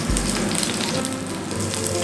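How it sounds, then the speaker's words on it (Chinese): Tofu pan-fries in hot oil for a vegan sour cabbage tofu casserole, giving a steady, close, dense sizzle and crackle that carries unbroken through the whole stretch. "每一面都煎到金黄之后啊，我们就把它取出来，然后切成片状"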